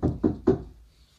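Three firm, hollow knocks on a locked door in quick succession, close and loud, each thud fading briefly before silence.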